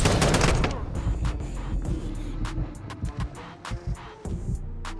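Gunfire in a Call of Duty video game, a burst of rapid shots followed by scattered single cracks and short volleys, fairly loud, with no talk over it.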